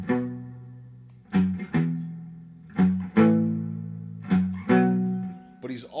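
Electric guitar plays the intro lick from Hendrix's Burning of the Midnight Lamp through an effects chain, a run of plucked, sustained phrases in call-and-response shapes, each note attack clear and ringing out alone at moderate volume.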